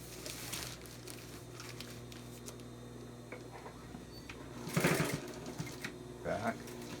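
A sewing machine stitches a 5x8 tarp in quiet bursts of rapid mechanical ticking, with fabric rustling and a louder burst of handling noise partway through, and faint talking underneath.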